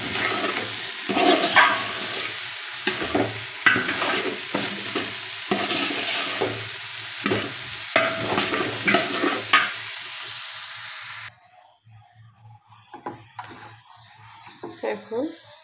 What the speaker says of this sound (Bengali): এখন এগুলো খুব সুন্দর করে চালের সাথে মিশিয়ে দিতে হবে।